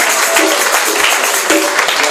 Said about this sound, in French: Maintenant, on va applaudir.